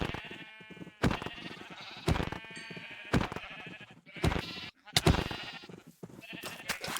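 Sheep in the Minecraft video game bleat repeatedly in short, loud bursts, several calls spaced about a second apart, with game sounds between them.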